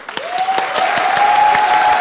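Applause from a studio audience at a comedy show, a burst of clapping that swells and holds steady with a sustained tone running beneath it.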